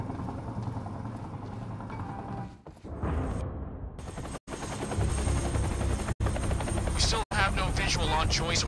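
A helicopter in the video game Quantum Break roars overhead with rotor thumping and a whooshing pass, loud and continuous except for brief sharp cuts, with a voice speaking over it.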